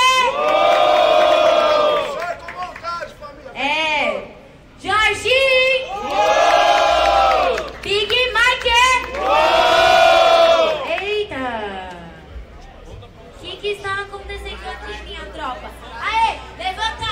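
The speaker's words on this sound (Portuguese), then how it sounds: "barulho para quem gostou das rimas de Big Mike" A crowd at a street rap battle in Itaquera roars, whoops and shouts approval for the rhymes in loud, sustained waves, with an MC's voice cutting through between surges.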